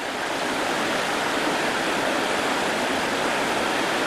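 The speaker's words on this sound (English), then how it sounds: "So that's the rapid that I just paddled successfully that Ian didn't video." Loud, steady roar of rushing water at a river rapid, a dense unbroken hiss filling the whole stretch with no voices.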